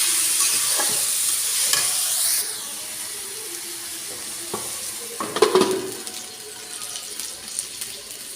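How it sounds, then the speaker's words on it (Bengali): Small potatoes fry in a pan with a steady hiss of sizzling oil, broken by scraping stirs of a spatula and clinks of utensils, loudest in a burst of stirring near the middle. "ভালো করে নাড়া দিয়ে নিই। ছোটো আলু ভাজা খাইতে খুব ভালো লাগে।"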